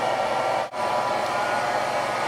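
Hair dryer blowing steadily on styled hair, a loud continuous whoosh with one brief dip partway through as the airflow is interrupted, no talking.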